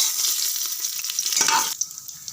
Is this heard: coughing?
no